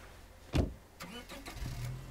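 A car engine in the State of Decay 2 video game starts with a sharp crank thump, then catches and settles into a low, steady idle rumble.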